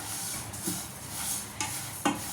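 Sesame seeds dry-roasting in a pan over a low flame, a soft steady rustling hiss broken by a few scrapes and light clinks as they are stirred, close and alone with no talk.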